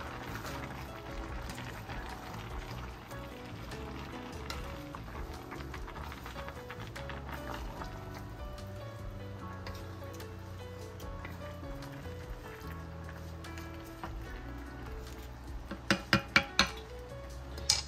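Egusi-free vegetable soup with frozen peas gets stirred in a pot, a low bubbling and sloshing wash with a few sharp spoon clinks against the rim near the end.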